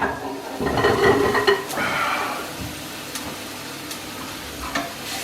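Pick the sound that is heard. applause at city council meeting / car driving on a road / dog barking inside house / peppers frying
peppers frying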